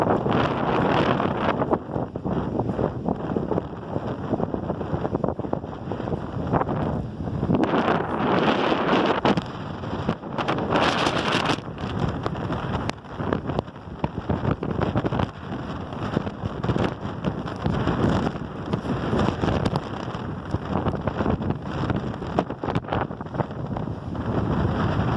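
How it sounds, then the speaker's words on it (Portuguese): Strong northeast wind buffets the microphone on Praia do Rosa beach, a continuous loud roar with gusty surges throughout and no talk. "Vento bem forte, vento nordeste forte."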